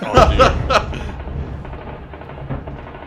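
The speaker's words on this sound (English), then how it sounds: "You can actually hear distinct gunfire in this video" A few sharp, distant gunshot-like cracks early on, then a low rumbling background with faint scattered pops, from fighting near a destroyed dam in the war in Ukraine.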